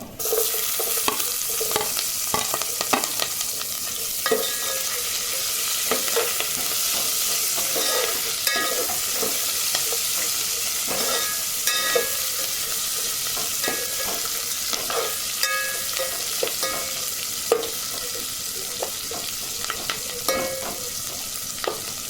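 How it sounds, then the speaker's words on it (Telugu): Onions and green chillies fry in a pan for a paneer cashew pulav, with steady sizzling throughout and repeated scraping and clinking as a spoon stirs, close and fairly loud with no talk. "ఇవి ఫ్రై అయినాక ఆనియన్, పచ్చిమిర్చి వేసుకున్నాం"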